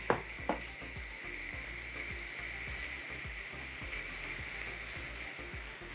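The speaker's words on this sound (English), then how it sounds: "we're ready to cook our chicken teriyaki" Chicken teriyaki sizzles steadily in a non-stick pan with no oil, a close, continuous frying hiss with occasional pops and scraping stirs.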